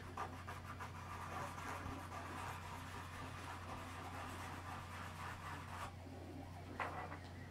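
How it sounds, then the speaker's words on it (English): Quiet, continuous rubbing and scratching as a small Wonder Woman figure part is sanded on sandpaper on a desk, with a low steady hum underneath. "I'm going to clean this up a little bit on some sandpaper on my desk."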